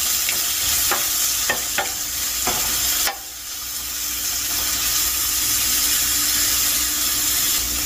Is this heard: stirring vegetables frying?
yes